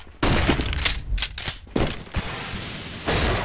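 A flashbang grenade going off in a multiplayer shooter, a loud broad blast followed by ringing, rumbling noise with further booms and gunfire nearby.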